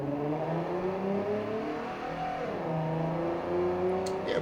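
A car accelerates hard on a race track, its engine note climbing and shifting through the gears in a loud, continuous drone heard from inside.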